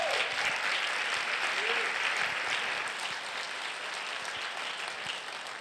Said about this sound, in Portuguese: Então dê um aplauso ao Senhor Jesus.